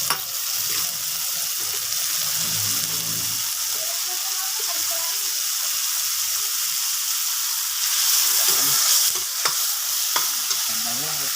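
Ginisang pakbet sizzles steadily in a frying pan as bagoong is added and stirred in, a continuous crackling hiss that swells briefly near the end, with no talking.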